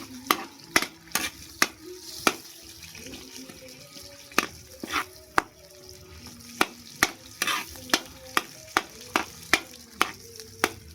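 Onions frying in a large kawa wok over a rustic provincial fire, with a continuous sizzle broken by regular, sharp scraping strokes of a spatula against the metal, loud and close.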